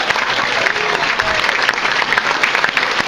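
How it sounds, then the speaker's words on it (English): Comedy club audience applauding a stand-up comedian, steady dense clapping throughout, loud and close, with no talk over it. "keep that applause going"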